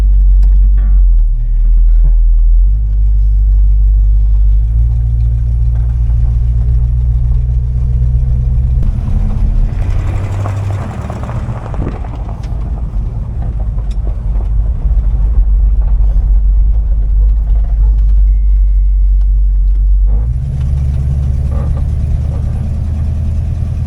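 A 1968 Dodge Coronet 500 with a 440 big block V8 out on a drive, a loud deep engine rumble that rises and falls as it accelerates and eases off, heard from inside the car throughout.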